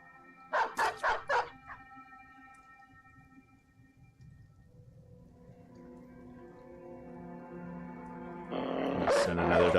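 A dog barks in the game Battle Brothers: a quick burst of four close, loud barks, a lone yip, then a low droning game background that swells louder at the end.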